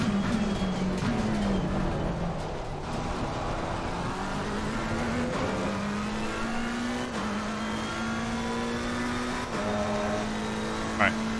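Lamborghini race cars battle on the Circuit of the Americas track, the engine note rising and shifting steadily through gears with a sustained, loud drone while a driver talks over it.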